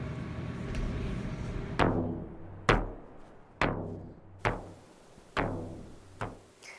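Six or so sharp drum strikes spaced about a second apart, each ringing out and fading with a deep resonant tail, played alone.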